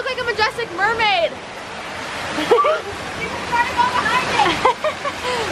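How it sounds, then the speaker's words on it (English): A mountaintop waterfall rushes steadily beside a hot tub in foggy weather, a continuous broadband roar under excited voices and a child's high chatter. "Mom's trying to go behind the waterfall."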